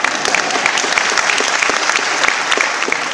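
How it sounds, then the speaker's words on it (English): Audience applause at the World Urban Forum in Vancouver, a steady dense patter of many hands clapping, moderately close and continuous with no voices on top. "you may applaud Yaletown."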